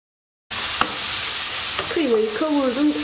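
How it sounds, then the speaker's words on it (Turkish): Minced meat fries on high heat in a pan, a loud, steady close sizzle after a brief silence, with a spatula knock early and some faint tonal background sounds later. "Öncelikle kıymamı güzelce suyunu salıp çekene kadar kavuruyorum"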